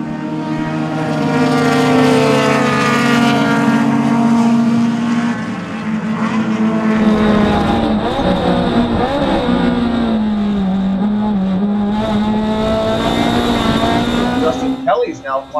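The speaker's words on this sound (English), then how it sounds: "there's a huge fleet of cars streaming through turn number 3 right now" A pack of race cars in a Gridlife GLTC race at Autobahn roars through a turn. The engines drone loudly and overlap, their pitches sliding down and back up as the cars brake and accelerate, under steady commentary.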